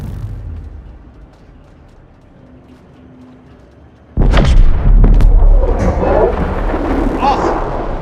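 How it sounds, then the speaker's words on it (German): In the video game Split Fiction, after a quiet rumbling stretch, a sudden loud booming explosion bursts in and keeps roaring with crackling blasts and rumble until the end. "wir warten die erste Explosion ab"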